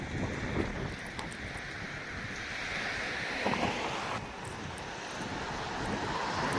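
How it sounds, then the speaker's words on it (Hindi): Wind blows steadily outdoors, a loud, rough buffeting rush with occasional stronger gusts, filling the whole stretch without any voices. "और ये देखो कितनी प्यारी यहाँ पे हवा चल रही है"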